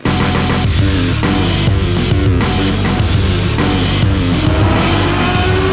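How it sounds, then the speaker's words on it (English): A 2011 MindDrive Lola electric car's chain drive motor whines loudly and steadily with a gritty, mechanical drive noise, close up and unbroken. "You can hear that it's kind of loud, and that's because there's a chain drive motor."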